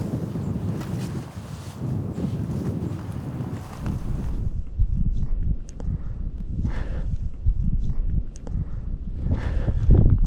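Strong wind buffets the microphone outdoors on a hillside during a mule deer hunt in New Mexico, a loud, continuous low rumble with gusts that ease briefly midway and then build again.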